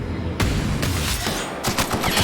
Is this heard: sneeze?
no